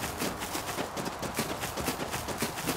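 Horse hooves clip-clopping in a steady quick rhythm in the survival video game Rust, continuous and fairly loud with no talking.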